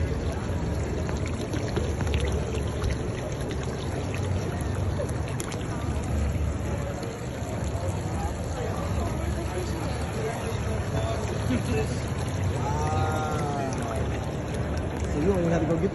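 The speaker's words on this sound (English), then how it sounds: "The filter is filling back up with water." Water pours steadily into an aquaponics bead filter as it refills, a continuous rushing splash with a faint gurgle late on, while people talk nearby.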